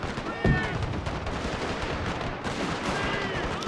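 A Gatling gun firing at a fort gate during an Anglo-Zulu War battle in the video game Total War, a dense, continuous rattle of rapid shots with one sharper bang near the start, set among steady battle noise.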